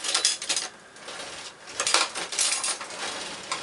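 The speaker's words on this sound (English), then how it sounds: "And I will start stirring" A utensil stirs sugar into grapes and water in a container for homemade wild-fermented wine, giving irregular close clinks and scrapes that come in bursts with short pauses between.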